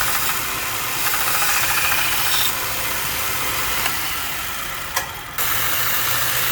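A 1 inch belt sander grinding the burr off a broadhead's primary bevel, a loud steady motor whir with a short cut-out near the end before it resumes, no talk.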